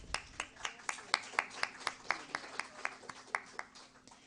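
A small group at a medical talk claps in a quick, sparse rhythm of distinct hand claps, moderately close, without voices.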